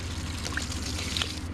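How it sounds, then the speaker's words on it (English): Cold overnight water pouring from a container onto garden plants, a short steady splashing trickle heard close up and on its own. "What's coming out of here is some really cold water from last night"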